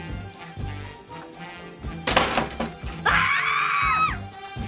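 A loud, high-pitched scream wavers for about a second, shortly after a sudden bang-like burst, with busy background noise and voices throughout.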